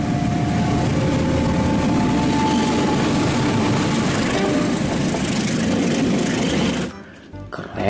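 A CC203 type diesel locomotive passing by, a loud continuous rumble and rattling roar that holds steady at close range, then breaks off abruptly near the end into wind buffeting.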